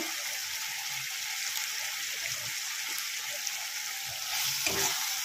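Paneer butter masala sizzles in a pan just after chili powder goes in, a continuous bright frying hiss with a brief stirring burst near the end.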